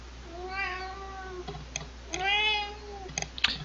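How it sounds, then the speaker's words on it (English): A Siamese cat meows twice at close range, each call long and drawn out, with light ticking and tapping sounds between and after the meows. "It's a Siamese cat, everybody."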